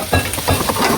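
Meat frying in oil crackles and sizzles loudly right next to the pan, with uneven pops and stirring bursts through one second.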